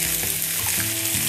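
Chicken and pork sizzle hard in a pan with ginger and scallion, a close, loud and steady frying hiss with no one talking.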